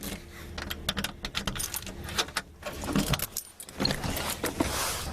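Keys jangle and clink in a garage storing an old classic truck, bursts of close metallic rattling coming in quick uneven clusters, loud and alone with no talk.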